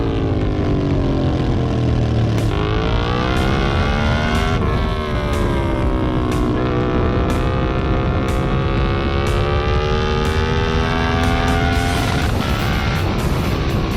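A MotoGP rider's motorcycle racing hard through a corner, with a loud continuous high-revving engine whine whose pitch rises and dips through repeated gear changes, close and alone.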